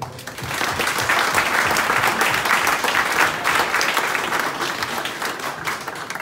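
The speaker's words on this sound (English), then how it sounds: "So a round of applause for Steve." A lunch crowd at a greyhound derby applauds a racing photographer, with thick, sustained clapping from many people at an even, fairly loud level throughout.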